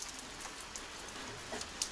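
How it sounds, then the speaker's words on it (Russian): Rain falls steadily outside a village house during building work, a faint, even hiss of drops with a few soft patters and taps over the short stretch. "уже час дождь прибывал"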